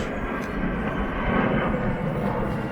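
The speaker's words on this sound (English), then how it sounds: "you will hear a lot of planes taking off, coming straight overhead" A jet taking off near Liverpool Airport passes overhead as a steady, broad roar, fairly loud and continuous, heard outdoors in woodland without talk.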